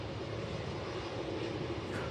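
Qantas jet airliner rolling down the runway at Melbourne Airport, a steady, distant engine roar that holds at an even level without pauses.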